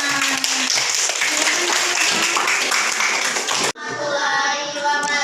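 Loud, dense applause from an audience at a teacher-training presentation fills the room, stops briefly, then resumes with a steadier wash of clapping.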